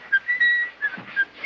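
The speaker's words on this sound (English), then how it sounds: "Try whistling again, why don't you?" A person whistles a short, faint tune of a few brief notes, alone with no talk around it.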